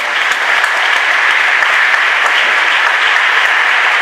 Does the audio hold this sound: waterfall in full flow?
no